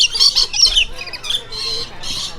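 Lorikeets squawk in a walk-through aviary at an aquarium, several harsh, high calls in quick bursts followed by longer overlapping screeches, close and fairly loud with crowd murmur underneath.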